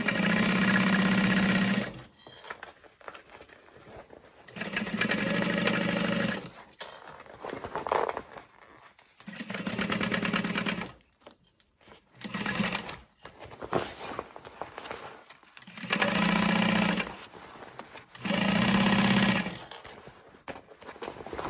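A sewing machine stitches a bag lining seam in repeated bursts of steady mechanical whirring, each a couple of seconds long, separated by short pauses, close and clear.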